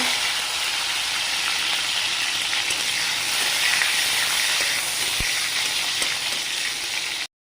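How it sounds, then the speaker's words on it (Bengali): Cashews frying in oil in a pan for sabudana pulao, a steady close broadband sizzle with a faint crackle running unbroken for about seven seconds before cutting off. "কাজুটা ভেজে নেব"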